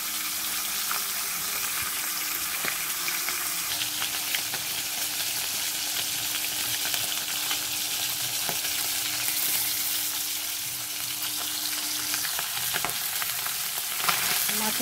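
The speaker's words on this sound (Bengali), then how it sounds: "মাখিয়ে মাছের মাথাগুলো একটু ভেজে নিই লাল লাল করে" Fish heads coated in salt frying in hot oil, a steady dense sizzle with a faint hum underneath, continuous and close for the whole stretch with no talking.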